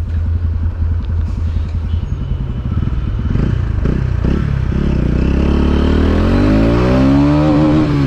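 A TVS Ronin 225 motorcycle engine pulls hard through the gears, rising revs with brief dips at shifts, growing loud and close, then a sustained climbing drone.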